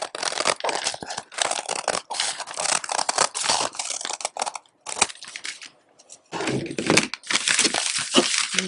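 Scissors cutting out ostomy pouch pattern pieces, a run of crisp, close snipping and crinkling paper sounds with short gaps between cuts.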